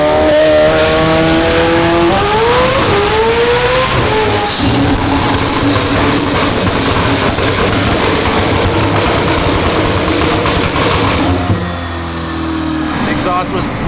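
A tuned 800whp McLaren 720S with a pops and bangs tune roars on a dyno, its pitch climbing through the gears before holding at a loud, sustained high-rev wail that cuts off near the end, with crackles over the engine noise.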